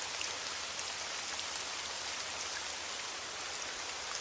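Rain falls in a steady, bright hiss of dense drops on surfaces outside a hospital, even and continuous at moderate volume with no voices.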